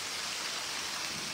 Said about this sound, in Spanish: ¡Qué rica lluvia!